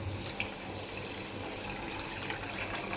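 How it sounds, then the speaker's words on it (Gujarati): Tap water poured into a bowl of sugar to make syrup for gulab jamun, a steady close splashing flow that carries on through the whole stretch with no talk over it. "હવે એટલું જ આપણે પાણી લીધું છે એ જ બાઉલમાં તમે જોઈ શકો છો। તો આપણે આમાં પાણી એડ કરી દઈશું"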